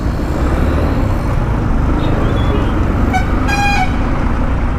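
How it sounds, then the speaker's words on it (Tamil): Busy morning road traffic rumbles steadily, with a couple of short car horn toots sounding near the end over the constant engine noise. "காலையிலேயே 8 மணிக்கு என்ன டிராஃபிக் இங்கே?"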